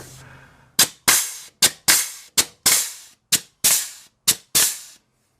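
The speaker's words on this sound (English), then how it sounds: "My hose just exploded." A grease gun hose bursts while a truck's Zerk fittings are greased, followed by a run of sharp, loud pops and bangs at close range, about ten in five seconds, each dying away quickly.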